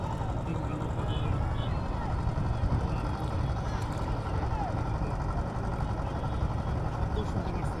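A small wooden dinghy boat's engine drones steadily on open water at a seaside beach, a constant low mechanical rumble with wind and distant noise blending in throughout.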